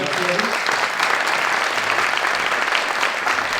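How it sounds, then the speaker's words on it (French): An audience applauds a government minister at a French public event, dense steady clapping close by that fills the whole stretch without a break. "On peut les applaudir, la ministre"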